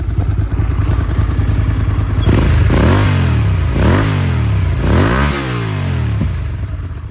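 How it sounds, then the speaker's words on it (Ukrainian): A Hyosung GT250R V-twin motorcycle engine idles with a deep, throbbing bass rumble, then revs up three times in rising and falling surges before settling back to a steady idle. "у мотоцикла дуже приємний басистий звук, бо все ж таки стоїть ветвін"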